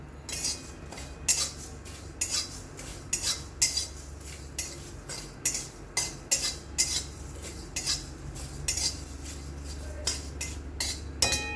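Whole cumin seeds with a bay leaf being dry roasted in a hot kadai, a steady run of scraping, clinking stirs and light rattling, close and fairly loud, with no talking.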